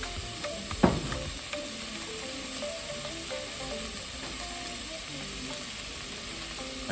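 Garlic frying in olive oil in a pot, a steady close sizzle with a brief louder clatter of stirring near the start, then continuous crackling spatter to the end.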